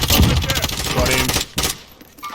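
Rapid bursts of M13 assault rifle fire in Call of Duty Warzone, loud close automatic shots rattling over about a second and a half before tailing off.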